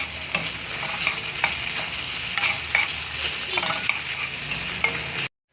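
A papaya and shrimp stir-fry is stirred in a hot pan, the spatula scraping and clacking in irregular strokes over a constant sizzle, close and clear, with no talking.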